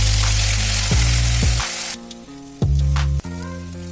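Fried onion paste hits a hot pan and sizzles loudly at first, then the hiss drops away and returns in short bursts, with background music running throughout.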